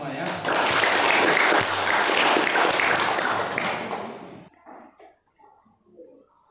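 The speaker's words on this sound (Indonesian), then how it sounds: "Ya, kita berikan aplaus untuk kita semua ya" Classroom applause from a group of students, loud and steady clapping for about four seconds before stopping abruptly, followed by a few quiet voices talking.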